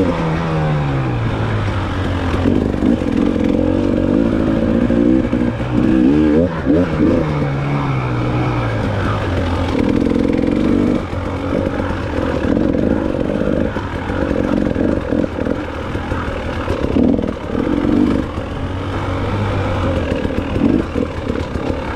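A 300 dirt bike two-stroke engine works through tight woods on a hare scramble course, revving and lugging in repeated rising and falling bursts, loud and close throughout with no talk.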